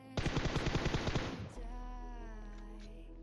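Automatic gunfire from PUBG Mobile, a rapid burst of closely spaced shots lasting about a second and a half, then cut off into a steady low hum with faint tonal game sounds.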